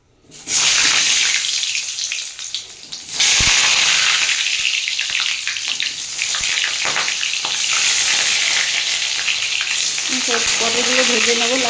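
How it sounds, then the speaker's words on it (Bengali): Pointed gourd (parwal) frying in hot mustard oil in a kadai: a loud, steady broadband sizzle that bursts in after a brief pause and carries on near and constant, with faint stirring and scraping sounds. "পটলগুলো ভেজে নেব লাল লাল করে।"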